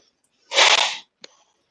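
A single sharp human sneeze, fairly close and loud, followed by a brief faint click.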